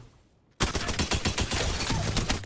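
Alternator SMG fire in Apex Legends starts abruptly after a quiet moment, then runs as a fast, even stream of loud, close automatic shots until the end.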